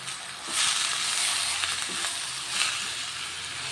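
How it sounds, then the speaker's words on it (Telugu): Chopped spinach frying in a pan, a steady bright sizzle that swells as the leaves go in and holds loud and close, with faint stirring scrapes and no talk. "ఇప్పుడు ఇందులో కట్ చేసుకున్న ఈ పాలకూర వేసుకుంటున్నా"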